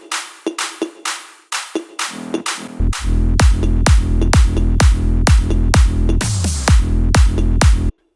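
Layered big room drum loop with claps, toms, snares and fills, the claps run through an LFO tool: a steady four-beat pattern of loud punchy hits, sparse at first, then joined by a deep booming low layer and a brief build fill near the end.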